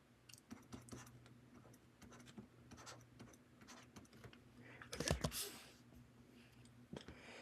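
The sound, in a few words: writing out a matrix equation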